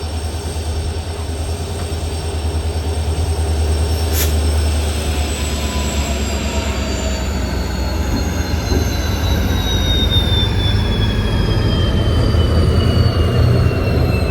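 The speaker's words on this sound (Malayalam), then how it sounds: "സ്ലോ ആയിട്ടാണ് വണ്ടി വരുന്നത്. WP4 ആണ് ലോക്കോമോട്ടീവ്." The Mandovi Express, hauled by a WP4 locomotive, rolls in slowly on the Konkan Railway with a loud, steady rumble of wheels and high drawn-out squeals from the rails, close by, with no voices.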